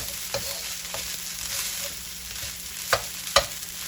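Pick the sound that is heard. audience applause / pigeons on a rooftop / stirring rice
stirring rice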